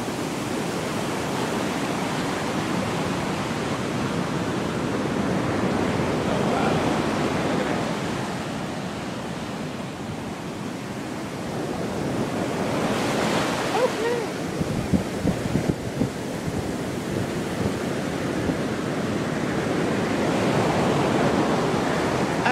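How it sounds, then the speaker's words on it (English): Waves from the Pacific Ocean wash steadily onto the sand at Manhattan Beach, a continuous broad rush of surf that swells and recedes, mixed with gusting wind buffeting the microphone. "This is the Pacific Beach, I mean, the Pacific Ocean, Manhattan Beach"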